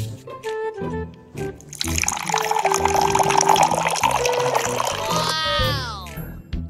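Cola poured from a bottle into a glass, a steady fizzing splash lasting several seconds, with people talking and other sounds around it.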